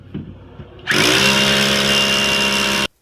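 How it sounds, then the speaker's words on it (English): A power drill bores a hole for subterranean termite treatment, starting abruptly after a few soft handling noises, then whining loudly and steadily for about two seconds before stopping sharply. "you're going to drill the next hole."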